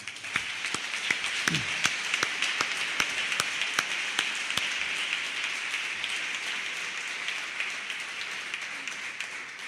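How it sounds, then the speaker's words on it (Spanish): Audience applause at an Izquierda Unida campaign rally for the Andalusian elections, a steady wash of many clapping hands sustained for about ten seconds, with a few sharper individual claps standing out near the front. "quiero pedir un aplauso muy fuerte, muy fuerte para mi secretario político y camarada Julio Bernardo"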